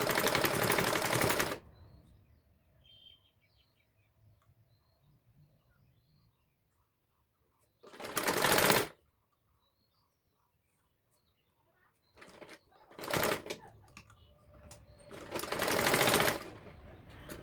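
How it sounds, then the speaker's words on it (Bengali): A sewing machine stitching fabric for a handmade potli bag runs in loud, close bursts of rapid whirring, separated by long quiet pauses with faint handling noises. "তো এভাবে সেলাইটা করে নেওয়ার পরে আমি আরেকবার ডাবল সেলাই দিয়ে নিব।"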